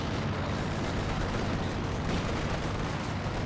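IL-2 ground-attack planes strafing during a Company of Heroes 2 3v3 battle on Hill 400, a dense unbroken barrage of rapid gunfire and blasts, loud and continuous throughout.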